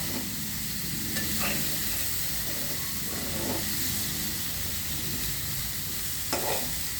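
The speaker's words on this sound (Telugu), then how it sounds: "కాలీఫ్లవరు కొంచెం వేగాల" Cauliflower fries in a pan for a cauliflower and tomato pulp curry, giving a continuous close sizzle with occasional stirring scrapes and no talk.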